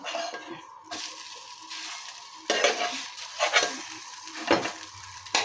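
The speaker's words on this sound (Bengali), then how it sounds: "এগুলো এইভাবে সব ভেজে নেব, গ্যাস আস্তে করে দিয়ে" Food frying in a pan over a low gas flame, a continuous soft sizzle broken by scraping stirring strokes and a few sharper bursts, close and steady with no talk.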